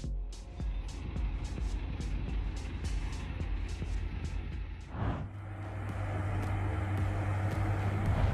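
A heavy transport truck rolls along the edge of a road, a steady low engine drone with a loud transient near the middle and a rising hum afterward, with no speech.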